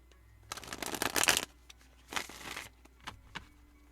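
A deck of cards shuffled by hand in a tarot-style reading, with a long riffling burst followed by a second shorter one and a few soft taps, close and fairly quiet.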